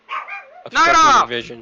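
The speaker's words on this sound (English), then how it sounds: "Sorry about the dogs, guys." Dogs bark loudly and close by in a short burst, overlapping a person talking over them.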